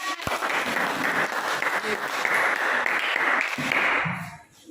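Schoolroom class applauding after a student presentation, a dense burst of many hands clapping that holds steady then fades in the last moment.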